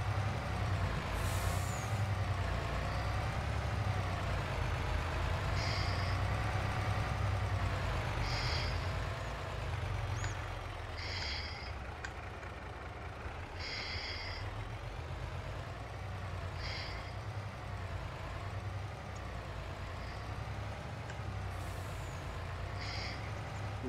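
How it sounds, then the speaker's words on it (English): A Kenworth truck hauling a heavy loaded trailer in Farming Simulator 22 rumbles with a low, steady engine drone. Sharp air-brake hisses and a run of evenly spaced reversing beeps sound close by, with no talk. "Yeah, I like this Kenworth."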